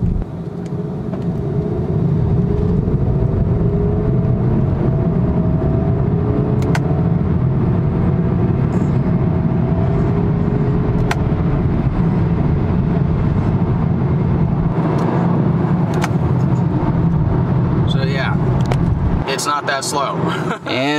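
A car accelerating in third gear from about 20 mph, heard from inside as a steady engine and road rumble that holds throughout, with talking over it and a louder noisy stretch near the end.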